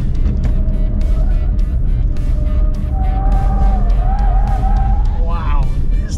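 A Ford Mustang Mach-E First Edition electric car accelerating hard on a skid pad, with a steady loud road and motor roar and a rising electric whine, while a person talks over it throughout.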